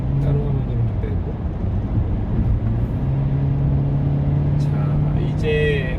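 A Hyundai Avante at highway speed, just past 100 km/h under hard throttle, fills the cabin with a steady loud droning engine and road noise that rises slightly in pitch, while someone talks over it.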